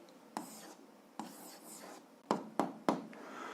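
Pen strokes writing an answer on paper during a seventh-grade algebra lesson, heard as a few brief scratchy bursts with short pauses, close and fairly quiet, with no talking.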